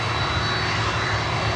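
A USAF C-17 military jet transport on approach to land makes a loud, continuous low engine roar and rumble that holds steady and fills the short stretch, with no one talking.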